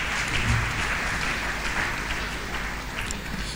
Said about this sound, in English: I thought we'll get a round of applause for.